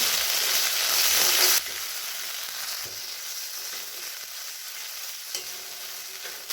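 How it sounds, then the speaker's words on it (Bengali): Cumin and spice pastes fry in a pan, a loud burst of sizzling and stirring at first, then a quieter steady sizzle with occasional scrapes of the spoon. "পেস্টগুলো ভালো করে মিশিয়ে নিচ্ছি"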